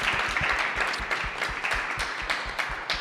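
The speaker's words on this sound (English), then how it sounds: "a round of applause to all of you for the amazing work that you're all doing" An audience applauds at a community dialogue event, with dense, steady clapping from many hands that fills the whole moment without any speech.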